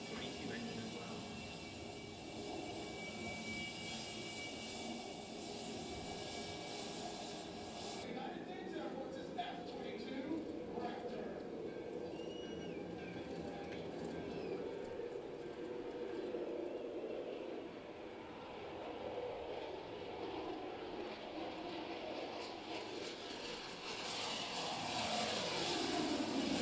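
An F-22 fighter jet's engine roars loudly and continuously, a dense broadband rush that rises and swells again toward the end, with faint voices underneath.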